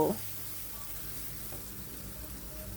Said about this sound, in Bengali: দিয়ে এখন কয়েক সেকেন্ড এই মশলাটাকে তেলের মধ্যে ভেজে নেব